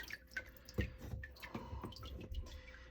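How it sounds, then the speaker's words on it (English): Water cascades and drips off a comic book lifted from a rinse bath, a soft run of irregular splashes and drips close by, faint overall. "I slowly lift it out and let the water cascade down"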